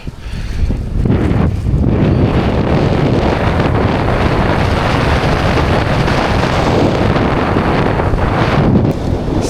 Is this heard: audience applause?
no